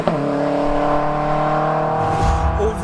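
A turbocharged 1-litre Nissan Micra engine revs hard and steadily toward the redline, a loud close buzzing drone held for nearly three seconds before easing slightly at the end.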